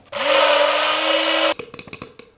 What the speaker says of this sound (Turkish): Blenderımızı takalım.